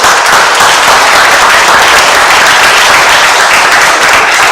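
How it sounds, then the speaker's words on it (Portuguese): Loud, dense applause from a large church congregation, sustained clapping at an even intensity throughout with no pauses. "Aplaude o Senhor Jesus pela ministração."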